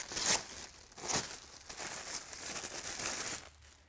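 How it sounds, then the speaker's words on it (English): Cellophane wrapping on an Epson large-format printer paper roll is pulled open, giving close crinkling and tearing bursts in a few separate handfuls, followed by softer rustling. "To do that, just open the cellophane."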